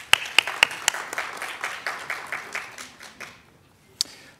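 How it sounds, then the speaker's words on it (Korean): Applause from a seated audience at a business briefing on metaverse projects, starting with a few sharp individual claps, swelling briefly, then thinning and fading to silence before one last lone clap. "큰 박수 부탁드립니다."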